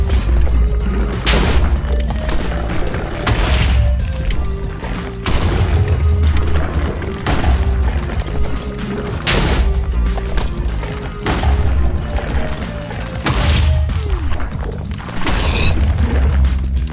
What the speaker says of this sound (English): what the mortar does is he shoots things into the sky which land on its target, causing explosions